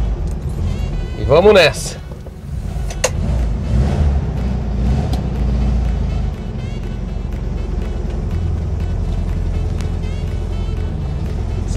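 A 1972 Volkswagen Beetle convertible, repainted metallic blue, idles steadily with a low, continuous engine rumble throughout, while a person speaks briefly near the start.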